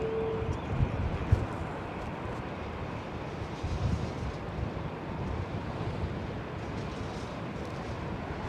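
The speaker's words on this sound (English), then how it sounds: "There is a brisk wind now, and that wind chill" Brisk wind gusting at London Heathrow airport on a cold winter morning during aircraft de-icing, a steady broadband rush buffeting the microphone with a few louder bumps, no talk.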